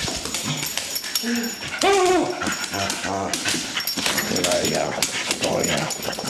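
A terrier mix dog whimpers and yips in high, wavering cries, breaking into a few short barks, close by while people talk over it.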